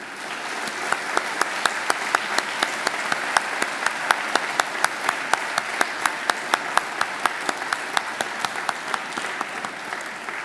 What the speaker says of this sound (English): give them a mighty round of applause